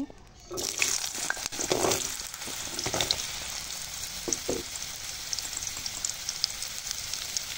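Two cut potatoes drop into hot oil in a pan and sizzle loudly, a bright steady crackle that settles into constant frying with occasional pops, no one talking.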